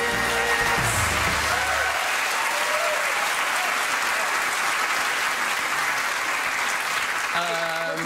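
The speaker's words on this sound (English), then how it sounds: "You see them getting a round of applause now." A television studio audience breaks into a loud round of applause, dense continuous clapping and crowd noise following a brief musical sting, with another short musical cue near the end.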